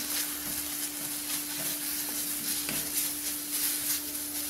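Fenugreek leaves sauté in a pan, giving a steady soft sizzle with light stirring scrapes throughout, moderately close and with no talk, over a faint constant hum.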